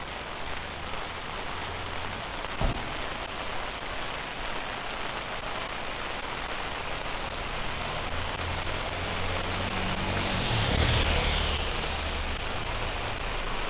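Steady rain falls during the rainy season in Phuket, Thailand, a dense continuous hiss of drops on surfaces, close and even, with a brief thump and a slight swell in intensity near the end.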